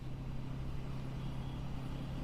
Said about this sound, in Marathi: निघाल्या निघाल्या गाड्या निघाल्या